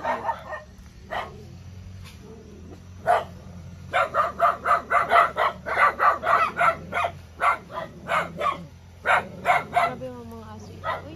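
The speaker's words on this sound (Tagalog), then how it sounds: "Grabe yung mga aso ito." Several dogs on a farm bark in a loud, rapid volley of close yaps, with a few whimpers, while people talk nearby.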